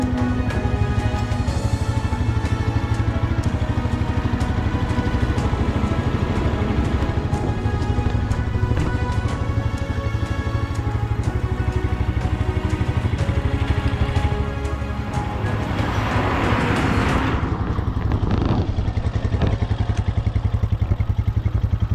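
A motorcycle engine runs steadily in second gear while its chain is lubricated, a loud, close, rhythmic idle with rattling mechanical clatter, plus a brief hissing spray partway through.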